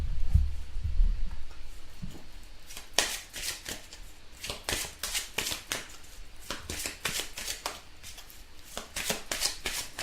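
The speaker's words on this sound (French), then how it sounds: "on va tirer quelques cartes amoureuses pour vous" Tarot cards being shuffled and drawn for a love reading, with a steady run of close, crisp riffling bursts and flicks at an even rhythm, after a brief low handling rumble; no voices.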